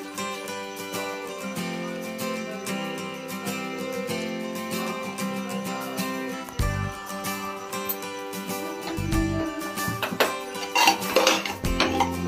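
A spoon clinks and scrapes against a dish as boiled chana is stirred together with coriander leaves and lemon, rhythmic metallic taps under background music.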